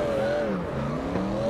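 V8-swapped Toyota Rina engine in the CarX Drift video game, revving loud and close with pitch sliding up and down under steady throttle changes, no talk.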